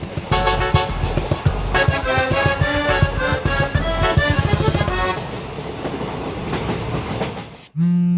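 A moving passenger train clatters along with loud, rhythmic clickety-clack from the wheels over the rails. The racket eases into a softer rolling rumble, then cuts off abruptly before a brief close-up bump at the end.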